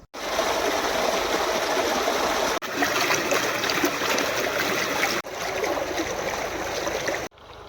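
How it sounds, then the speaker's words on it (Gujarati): Steady rushing flow of water, close and continuous, with brief dropouts where the sound cuts off momentarily. "પાણી ચાલુ કરીને પાણી આવેલું જાય ને આ ધોરીએ"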